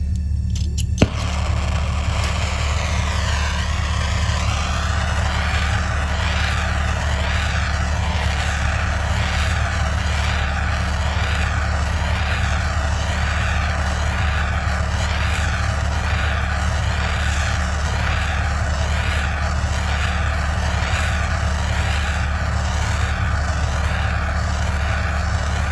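A torch roars steadily while heating solder along the seam of an overlay ring, a loud continuous blowing hiss with a low rumble that runs alone for the whole stretch.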